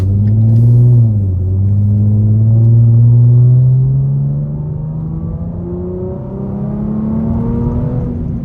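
A 2015 Ford Mustang with a 3.7-litre V6 pulls away from a stop, its engine note rising steadily through the revs with a brief dip at a shift, loud and close from inside the cabin.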